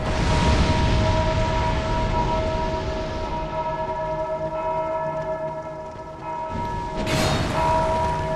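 A large bell in the video game Dark Souls II rings with a long, sustained metallic hum that slowly fades, then is struck again near the end with a sharp new clang and a fresh ringing swell.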